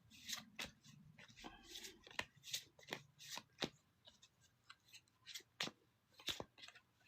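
A deck of tarot cards is shuffled by hand in a quiet room, giving repeated crisp riffling and slapping bursts in an uneven rhythm, close and fairly soft.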